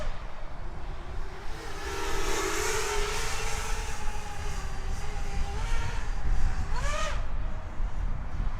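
CMW Moneyshot Mini RC plane flying at increased throttle, its motor whine rising and shifting in pitch as it passes, moderately loud over outdoor background noise.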